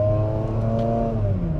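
A 2004 Mazda RX8 engine revving as the car accelerates, a steady droning whir that climbs slowly in pitch, heard from inside the car without talk.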